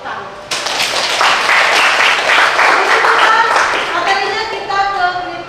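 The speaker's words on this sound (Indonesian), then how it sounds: "Tepuk tangan." A classroom of high school students claps together near the microphone, with an onset at half a second that holds steady for several seconds before a voice starts speaking over the dense clatter toward the end.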